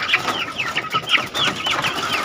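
A neighbour's free-range village chickens cluck and chirp nearby in a yard, a string of quick rising calls in an uneven rhythm, fairly loud and close.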